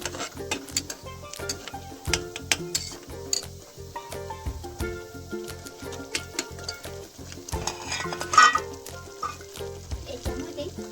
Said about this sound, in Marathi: टॅमॅटोची प्युरीला तेल सुटेपर्यंत भाजून घ्यायचे, असं फ्राय करायचं